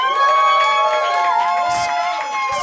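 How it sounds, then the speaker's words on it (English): A comedy club crowd at a New York roast battle cheers, whoops and shouts, with some clapping, in a loud, close burst that sounds mostly vocal. "I want you to clap it up and make some noise if you think Brandon Lott took this battle."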